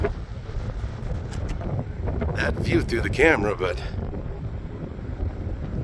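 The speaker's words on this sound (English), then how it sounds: "It is quite windy." Wind rumbles steadily against the microphone at a panoramic viewpoint above Albuquerque while someone talks over it, the low blustery roar continuing throughout.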